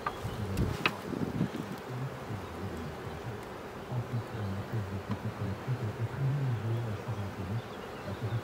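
Honey bees buzzing around a strong beehive, a continuous low droning hum with swelling and fading tones from many insects close by.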